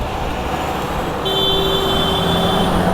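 Old local buses in Dhaka city traffic give a steady roadway roar, and partway through a bright sustained horn-like tone cuts in and holds for over a second.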